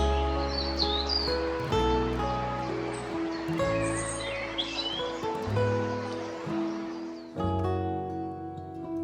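Several birds chirp and sing in quick bursts over sustained musical tones, with faint rustling beneath.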